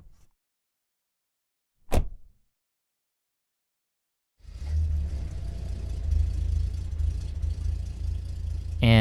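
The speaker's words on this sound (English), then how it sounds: "I'm going to close the door now and drive you over to my place." After a quiet stretch and a single sharp thud like a car door shutting, a car engine starts and rumbles steadily as the vehicle pulls away, a low continuous drone that builds slightly toward the end.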